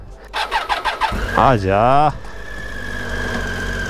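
A motorcycle engine cranks with several rapid starter pulses in freezing weather, catches and revs up briefly, then settles into a steady idle to warm up, while someone speaks over it.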